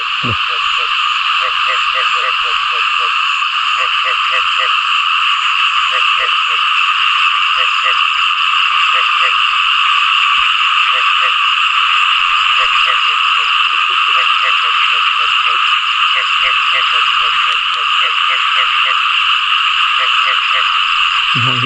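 A dense chorus of frogs croaks on and on through the night, a loud steady trill with rhythmic pulsing calls layered over it, heard close up outdoors before dawn.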